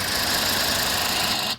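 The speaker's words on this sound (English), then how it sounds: "Let's listen to the engine real quick." A low-mileage repossessed car on a Copart auction lot runs at a steady idle, its engine a loud, close, continuous hum with no pauses.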